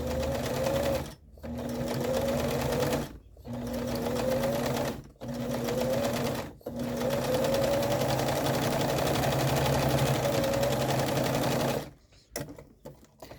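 A sewing machine stitches around a blue felt monster shape in long, loud bursts of steady mechanical whirring, broken by short pauses where the fabric is turned, and ends with a few quick stutters.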